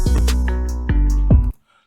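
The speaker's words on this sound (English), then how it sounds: "the hi-hat just hit kind of differently" A programmed hip-hop beat with a crisp hi-hat pattern that breaks into a quick roll, riding over heavy bass and a melodic layer, loud and continuous before cutting off abruptly near the end.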